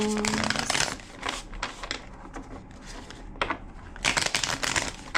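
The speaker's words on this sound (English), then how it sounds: "Two more shuffles." Tarot cards being shuffled by hand, several crisp riffling bursts of flapping and clicking separated by short pauses, close and fairly quiet.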